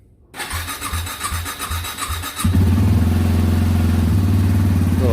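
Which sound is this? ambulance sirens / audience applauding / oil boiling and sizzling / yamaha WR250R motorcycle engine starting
yamaha WR250R motorcycle engine starting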